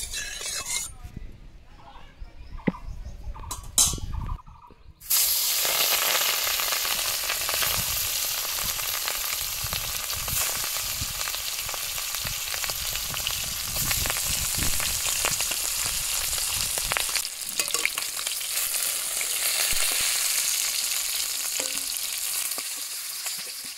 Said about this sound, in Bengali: তেল গরম হলে মাছটা আমি লাল লাল করে ভেজে নেব